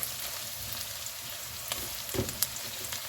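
Red potatoes, onions and mild sausage fry in a pan, giving a quiet, steady sizzle with soft crackles and a few scraping stirs.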